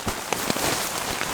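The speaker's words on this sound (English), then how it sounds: "It's raining pretty heavy, so I'm hoping I'll get some sleep." Heavy rain drumming on a tent during a solo wild camp in the woods: a constant, close patter of drops with a few sharper individual hits, fairly soft overall and with no talking.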